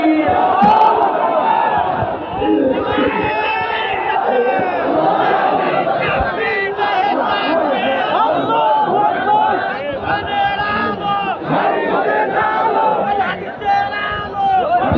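A large crowd at an outdoor Islamic religious gathering at a village market in Nilphamari roars "Allahu Akbar" in unison, loud massed voices chanting continuously and overlapping in waves throughout.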